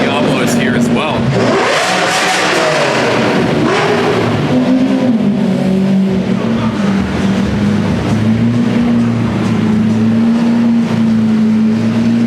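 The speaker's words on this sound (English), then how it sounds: "The modified Diablo is here as well." Engine of a modified Lamborghini Diablo at an underground car meet in Japan, loud and close, rising in a brief rev before settling into a steady deep drone, with voices talking in the background.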